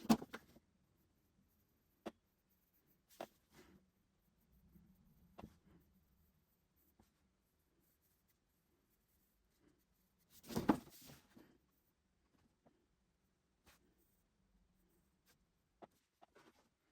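Pencil lines drawn for the outline of a Marmite jar: faint, sparse scratchy strokes and taps, mostly quiet with a longer, louder scribbling stroke near the middle.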